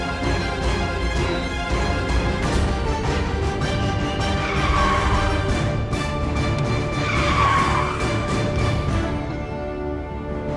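A car skids as another vehicle blocks it, with a loud, sustained tire squeal and a revving engine running through the scene, the squeal rising and falling twice.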